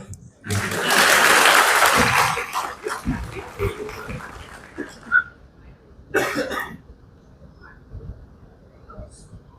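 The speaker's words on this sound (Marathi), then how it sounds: "वाजवा टाळ्या" An audience at a speech breaks into loud, brief applause that fades quickly, followed by scattered shuffling, coughs and murmurs, then a short second burst of clapping.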